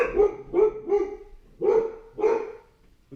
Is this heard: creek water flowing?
no